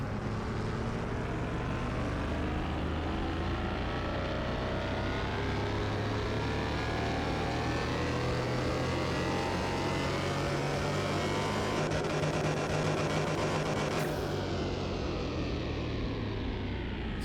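A Porsche 911 Carrera 4S of the 991 generation, tuned, roars at sustained full load on a chassis dyno, loud and close with a dense, steady engine drone that drops away sharply near the end.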